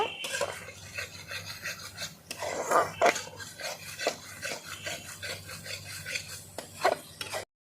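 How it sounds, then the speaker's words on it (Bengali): A spoon stirring and scraping poppy seed paste through a pomfret fish curry masala in a pan, with repeated close rasping strokes and occasional clinks against the metal. "এবার দেখো বেটে রাখা পোস্তটা দিয়ে দেবো কষ্ট দেওয়ার পরে একটু হালকা করে কষিয়ে নেব"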